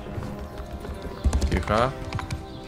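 Horse hooves clip-clop in Mount and Blade II Bannerlord, a short burst of hoofbeats with a brief neigh, partly under someone speaking.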